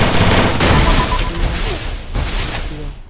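Rapid gunfire during a video game match, a short burst of loud, dense shots crackling together at close range before quickly fading away.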